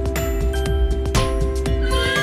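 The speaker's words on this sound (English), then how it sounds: "Horse." A horse neighs loudly and close up, a long shaky whinny with breathy bursts and a faint clip-clop of hooves underneath.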